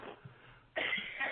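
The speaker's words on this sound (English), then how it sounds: "Yeah, I just coughed up a lung there." A single harsh cough from a guest on a paranormal talk radio show, narrow and phone-like in tone, bursting out after a brief quiet breath and trailing off rough.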